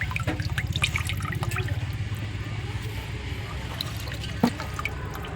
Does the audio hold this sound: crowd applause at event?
no